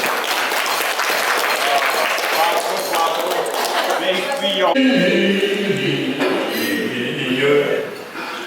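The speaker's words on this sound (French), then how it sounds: "On peut l'applaudir." Applause fills a hall at a seniors' dinner, a dense burst of many hands clapping loudly that thins and fades toward the end, with some voices mixed in.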